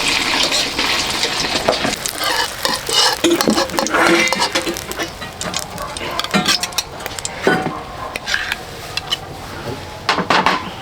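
Eggs frying in a pan in a home kitchen, a steady sizzle with clinks and scrapes of utensils and cookware throughout.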